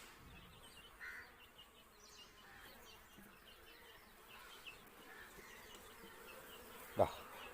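Honeybees buzz around an open wooden hive box in a faint, steady background drone, with a single sharp knock near the end.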